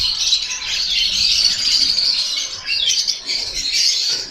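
Pet budgerigars of crimino, dakino, turquoise and pale fallow types chatter and squawk together in an aviary, with dense continuous high calling and no pauses.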